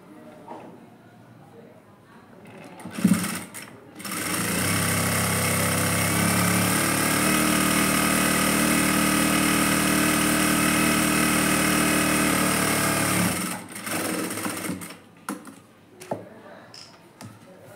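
A sewing machine stitches a blouse seam in one sustained whirring run of about ten seconds, loud and close, with quieter handling clicks before and after.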